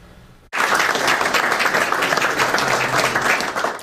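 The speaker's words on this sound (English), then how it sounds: "There were many rounds of applause for more than two dozen asylum seekers" A large crowd breaks into loud, sustained applause after a quiet start, many hands clapping densely and evenly throughout.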